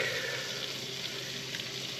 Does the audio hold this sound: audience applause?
no